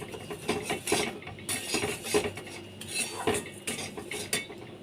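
Sugar being stirred into fried semolina for halwa in a pan, with a spoon clattering and scraping against the metal in a steady, repeated rhythm, close up with no talking.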